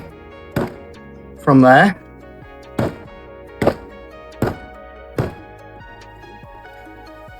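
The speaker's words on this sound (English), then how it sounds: "if all else fails, I'm just going to bang. And it seems to demold it" A fast-cure resin mold is banged on a hard surface to free the casting: six or so sharp, hollow thunks at uneven intervals, close and clear, with a short spoken word between the first knocks.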